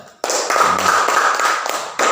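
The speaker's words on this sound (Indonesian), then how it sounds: "Tepuk tangan untuk Mikel dulu." A classroom of primary school pupils claps for a classmate named Mikel, a brisk burst of many hands patting fast and steadily, with a short pause before the clapping picks up again near the end.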